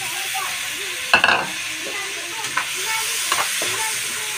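Tomatoes go into a sizzling pan of chicken biryani base with ginger, giving a soft steady frying hiss, a sharp burst of sizzle as they land, and a few clinks of a utensil stirring afterward.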